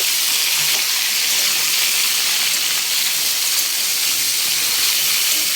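Chopped vegetables for Bengali shukto frying in a hot pan with radhuni seeds, a loud, steady, close hiss and sizzle that continues without a break, no voices.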